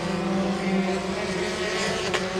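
Formula 4 race car engine on a South East Asia championship circuit, droning steadily at close range with strong harmonic tones, dropping to second gear through a tight chicane and pulling hard back onto the power.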